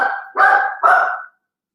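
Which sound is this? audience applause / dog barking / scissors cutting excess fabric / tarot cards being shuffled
dog barking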